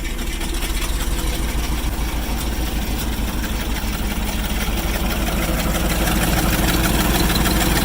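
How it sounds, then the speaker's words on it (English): A 1960 Mack B-61 truck engine idles steadily up close, a loud, even, low rumble with a constant throb that holds for the whole stretch without any voices. "Yeah, she'll idle."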